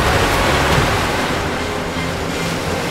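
Rushing river water in a mythological drama scene, a dense, steady roar of surging flow that fills the whole stretch at high level without break, with no voices over it.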